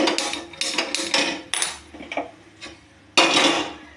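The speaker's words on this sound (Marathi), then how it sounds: "माझं लायटर थोडंसं खराब आहे, त्यामुळे लवकर लागत नाही" A faulty gas stove lighter clicks repeatedly in a home kitchen, several sharp irregular snaps in a row with short pauses, close and fairly loud, with no voices.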